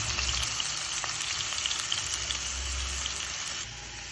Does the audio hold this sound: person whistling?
no